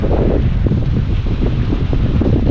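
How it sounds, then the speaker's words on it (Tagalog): Strong northeast monsoon wind blows in a sustained gust, buffeting the microphone with a low, rumbling roar throughout. "Huling hangin na ng amihan ayan o, oh, isang bugso na to"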